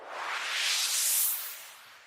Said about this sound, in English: A swoosh again.